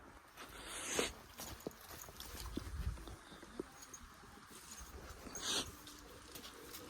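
A dog moves about nearby with soft whimpers and scuffling steps on the ground, faint and intermittent against outdoor background noise.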